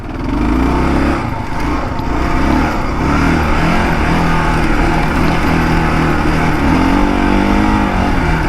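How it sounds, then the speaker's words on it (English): A KLR 650 dual-sport motorcycle revs hard climbing a sandy hill, a loud steady engine roar filling the whole stretch without letup. "we're gonna need a run at this sandy hill with a KLR"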